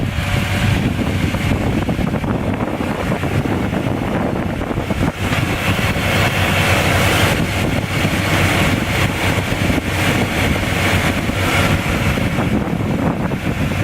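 A warm Chevrolet K1500 pickup truck engine idles steadily up close, a continuous low rumble with broadband wind-like hiss running evenly throughout, no talking.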